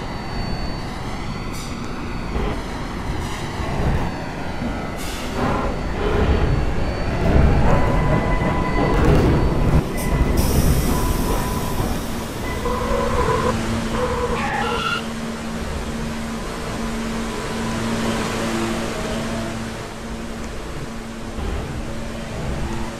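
An R188 subway train on the C line in the Roblox video game rumbles and rattles continuously, its tone shifting midway as it keeps running at a steady, fairly loud level.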